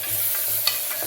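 Curry leaves and onions fry in a pan with a steady, close sizzle under a low hum, with a few soft stirring scrapes over about a second.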